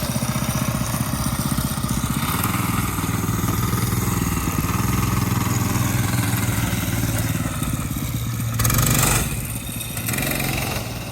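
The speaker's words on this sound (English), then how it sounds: "That clutch is slipping." A go-kart engine runs steadily with a slipping clutch, a loud close buzzing drone with rattly clatter throughout and a brief surge in revs near the end.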